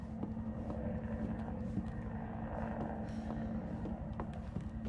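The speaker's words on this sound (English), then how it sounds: "Is that a helicopter?" A helicopter flies over in the video game Resident Evil 2, a steady, dense engine drone and low rotor rumble that holds at one level throughout without any break.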